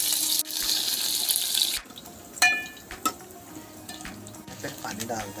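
Water poured into a cooking pot for Maggi noodles on a trek between Khati village and Dwali, a loud rushing splash for about two seconds, followed by clinks and light stirring or sizzling noises.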